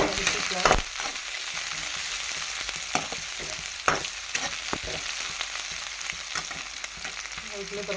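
Chopped onion and curry leaves fry in hot oil for a South Indian banana-flower stir-fry, giving a steady close sizzle broken by a few sharp crackles and spoon scrapes, with no voices.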